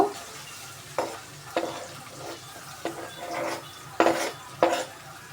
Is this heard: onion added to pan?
yes